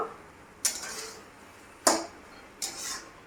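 A utensil scrapes and clinks against a cooking pan while white spinach is stirred, making three sharp metallic strokes spaced about a second apart, each fading into a brief sizzle-like hiss.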